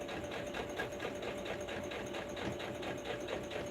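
A sewing machine backstitching through blue denim jeans, running steadily with fast, even needle clatter and a constant motor whine. The stitching runs close and continuous, with no talk over it.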